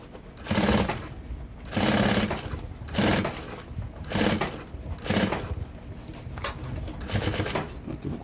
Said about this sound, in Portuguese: Vou costurar na primeira vez.